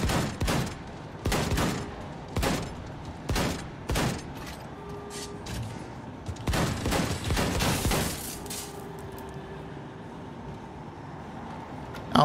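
Rapid bursts of gunfire from a shotgun-like weapon in Wolfenstein: The New Colossus, with loud, sharp blasts coming in quick clusters and then trailing off into quieter battle noise.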